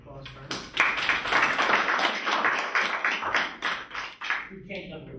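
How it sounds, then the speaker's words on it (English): An audience breaks into a burst of applause for a CNN anchor, a dense patter of claps that swells quickly, holds for a few seconds, then thins out as a voice speaks over it. "How about a round of applause for her?"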